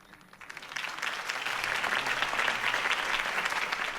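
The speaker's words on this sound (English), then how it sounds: "could have heard that applause" A crowd applauds in the Batman Telltale Series video game, the clapping swelling quickly from a quiet start into a steady, dense ovation that holds to the end.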